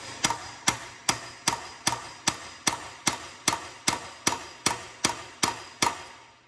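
Sharp metallic hammer taps on a punch strike in a steady, even rhythm, about fifteen blows spaced evenly, close and clear with no voices, while installing an Allis-Chalmers WD tractor transmission main shaft.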